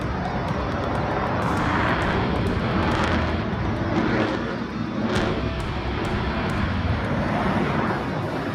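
F-22 Raptor fighter jet flying a spin at an air show, a loud continuous roar of jet engine noise that surges and fades in waves, with no speech.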